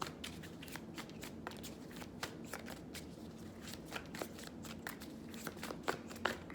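Tarot cards are shuffled by hand in a steady run of soft, papery riffles and flicks, close and fairly quiet, with no talking.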